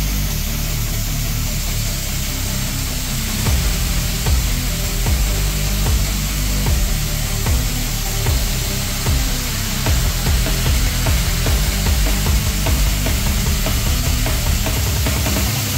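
Welding and grinding on a boat deck, a loud steady harsh roar with rhythmic rasping pulses running throughout, no voices.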